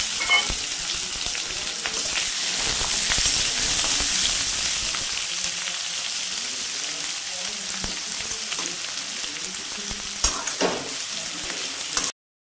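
Potatoes fry in oil in a pan, giving a constant close sizzle and crackle, with the scrape and tap of a spatula stirring now and then before the sound cuts off.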